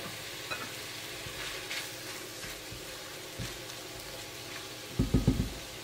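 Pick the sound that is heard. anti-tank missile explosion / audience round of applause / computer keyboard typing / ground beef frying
ground beef frying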